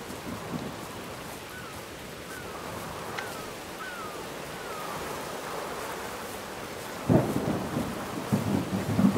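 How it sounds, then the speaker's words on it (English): Thunderstorm with rain in the video game Whispers of a Machine: steady rain hiss with faint distant tonal chirps, then a loud thunder crack near the end followed by rumbling. "I should be able to take shelter from the storm"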